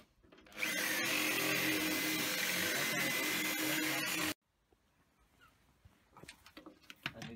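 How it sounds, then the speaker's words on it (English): A power drill with a large serrated bit whines loudly and steadily while boring into a beer-crate racer build, then cuts off abruptly, leaving quiet rustles and faint clatter. "I know you're starting with the bigger drill again"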